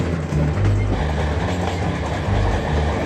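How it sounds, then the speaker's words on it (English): A train rumbles and rattles steadily close by across the Hurricane Gulch bridge in Alaska, high above the creek bed, wheels clattering over the track with a heavy low drone. "the train rattles across Hurricane Gulch"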